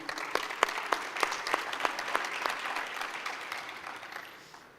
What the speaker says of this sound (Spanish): Por favor, un fuerte aplauso a todos.